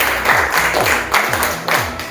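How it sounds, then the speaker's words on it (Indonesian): A classroom of students gives a short, lively round of applause, clapping together in a quick, even rhythm. "Tepuk tangan untuk Pak Is."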